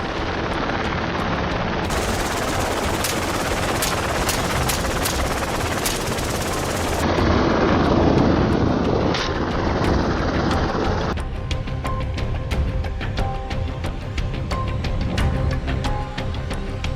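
A helicopter flies low over a dense riverbank during a feral hog hunt, its rotor thudding loudly and continuously, mixed with rapid bursts of gunfire.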